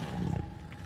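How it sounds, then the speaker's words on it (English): A cartoon dinosaur lets out a single short, deep roar that trails off in under a second, moderately loud and with no one talking over it. "I hear dinosaur roars."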